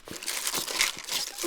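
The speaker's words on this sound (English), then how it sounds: "plastic bags" Empty plastic bags are crumpled by hand while bike bags are packed, a close, continuous crinkling with quick, uneven bursts and no talk.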